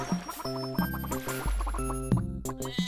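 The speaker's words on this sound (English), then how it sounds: "All I hear are just constant chickens" Chickens cluck repeatedly in the video game Simmiland, short bird clucks scattered over steady tonal game music, moderately loud and close, with no speech.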